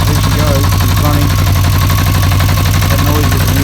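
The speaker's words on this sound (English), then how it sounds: "That noise you can hear, that clattering, that's the clutch." A Yamaha XJ600 motorcycle engine idles loudly and close, its steady churning mixed with a metallic clatter from the clutch.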